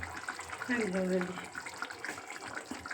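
Water poured into a pan while cooking fish, a brief gurgling splash that rises and fades in the middle of the clip, fairly quiet against background noise.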